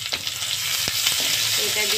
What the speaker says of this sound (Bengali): এইভাবেই কিন্তু আমি পেঁয়াজটাকে এরকম হালকা গোল্ডেন ব্রাউন করে কিন্তু ভেজে নেব